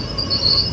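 Train brakes give a sustained high-pitched metallic squeal over a low rumble as the train slows to a stop at a railway station, loud and continuous.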